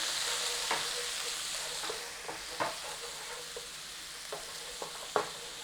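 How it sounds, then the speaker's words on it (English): Garlic and ginger frying in ghee in a pan for a chicken rogan josh, producing a soft, fairly quiet sizzle with sporadic spoon stirs and scrapes. "As usual, cook out the rawness of the garlic in the pan."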